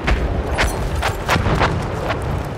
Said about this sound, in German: Wo knallt die Artillerie rein?